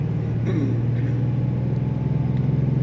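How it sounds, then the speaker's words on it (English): A 1993 Chevrolet C1500 extended-cab pickup with its 6-cylinder engine pulling under acceleration, a steady loud low drone filling the whole stretch with faint broadband road rumble, no voices. "that 6-cylinder gets up and pulls this truck pretty good"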